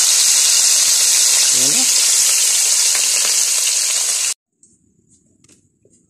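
Emperor fish (mamadas) frying in hot oil over a cooking fire, a loud, dense sizzle and hiss that runs steadily, with a brief spoken word over it, then stops abruptly into near-silence with faint clicks.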